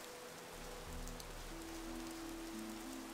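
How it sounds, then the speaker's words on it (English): Rain falls steadily in the video game Gothic 2, a constant hiss of drops with faint low tonal hums underneath, even and unbroken throughout. "Raining is quite harsh in the game now."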